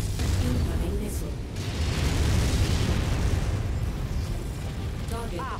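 A missile blast in MechWarrior 5 Mercenaries rumbles as a dense, sustained roar of explosions and mechanical noise, loud and close, with a faint voice in the background.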